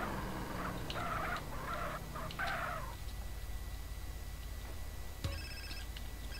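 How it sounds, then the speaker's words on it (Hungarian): A mobile phone rings in the video game GTA San Andreas as a series of bright, repeated ring bursts over a low background hum, then fades and leaves the hum alone. "Hopp, egy telefon."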